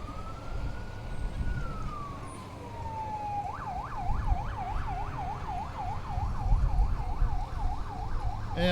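A fire truck in a small-town Christmas parade sounds its siren, a long rising-and-falling wail giving way to a rapid repeating yelp, moderately distant over low street rumble.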